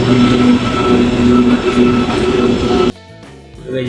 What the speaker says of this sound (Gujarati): હવે રેલવે તો આવી રહી છે